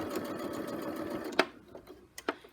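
Sewing machine running at speed while stitching a zip into a cushion, a dense rapid mechanical whir that stops abruptly, followed by a few faint clicks and handling taps nearby.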